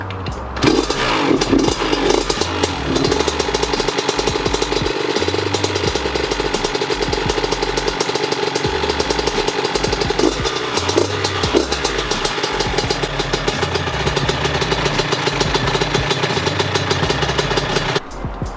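A two-stroke motorcycle being carbureted starts up and settles into a loud, steady, buzzing idle with a rapid crackling exhaust note, close by and with no talking.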